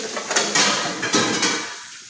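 Metal pots and dishes clatter and clank together in a few quick bursts, close by, with no voices.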